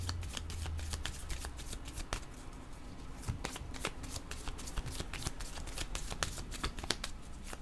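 A deck of tarot cards is shuffled by hand in a quiet room, giving a steady run of quick riffling flicks and snaps that are close, crisp and continuous.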